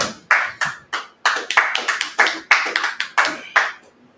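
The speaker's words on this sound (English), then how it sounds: "Clap that up." Audience clapping in short separate bursts of a few people's hands, about a dozen sharp claps spread unevenly, fairly close and fading near the end.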